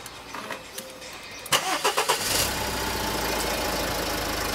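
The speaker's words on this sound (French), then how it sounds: "Je démarre donc la voiture." A car engine cranks with several rhythmic starter turns, catches and settles into a steady close idle.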